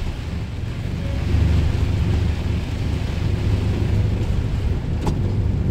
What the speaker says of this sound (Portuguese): Chuvinha caindo com força